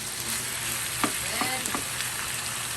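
Chicken frying in hot oil in a pan, a steady broadband sizzle with a few brief clinks and stirring knocks from the kawali, close and fairly quiet, no talking.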